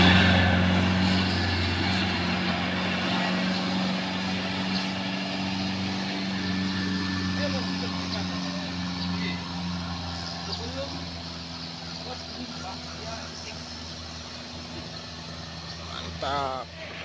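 A truck engine labours under full throttle up a steep hill on a Sumatran road, a low, steady drone with a constant hum holding throughout, while a voice talks over it.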